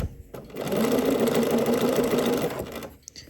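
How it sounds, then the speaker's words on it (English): A sewing machine stitches a hem seam onto bias tape facing on a shirt, a steady close whirring run of about two seconds that starts and stops abruptly, with no talk. "And we are sewing this seam allowance to that bias tape facing."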